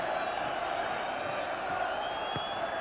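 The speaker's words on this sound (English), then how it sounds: "the Rangers fans cheering their team on to the very last here" Rangers football fans cheer their team on at a stadium during a 1993 Champions League match against Club Brugge, a sustained, distant crowd roar with a faint voice at times.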